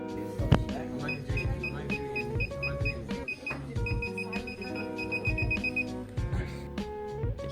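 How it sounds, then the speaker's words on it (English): A proximity sensor beeps rapidly in a steady series, the gaps between tones closing up as something nears it until they nearly run together, over a busy background of music and voices. "demonstrating the increasing beeping when you get closer and closer to the sensor"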